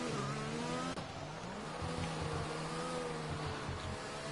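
Open-wheel F2 race cars roar around the Italian Grand Prix circuit at Monza in a racing game, a steady engine drone with harmonic whine and a brief dip, some tire noise mixed in, close and continuous without talk.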